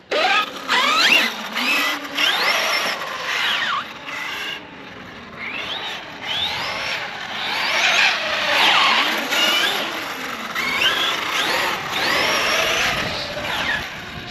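A 6s RC car drifting, its electric motor whining and tires scrubbing in sweeping, rising and falling bursts, loud and continuous without any talk.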